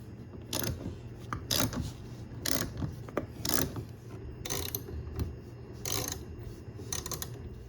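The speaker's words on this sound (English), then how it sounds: "I'm going to raise the leveling feet back to the original position." Leveling feet on a KitchenAid dishwasher being raised back up, giving a series of close, repeated ratcheting clicks and mechanical scraping in short bursts, with no talking.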